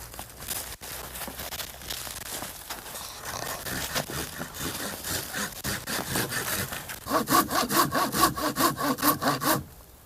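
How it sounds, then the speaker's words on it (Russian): A saw worked with two hands cuts down a tree outdoors, with steady rhythmic back-and-forth rasping strokes that grow louder and faster toward the end. "становись сбоку и двумя руками пили"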